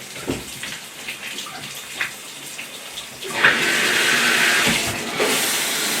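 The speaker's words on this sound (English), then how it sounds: "Jack's getting a shower and being a good boy" A dog being washed in a home shower, with running water hissing steadily and growing louder partway through, close and continuous with a few splashes.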